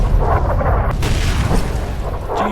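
Heavy rumbling booms from explosions in Fallout New Vegas, with a dense, continuous low roar and a sharper blast near the middle, loud and close throughout.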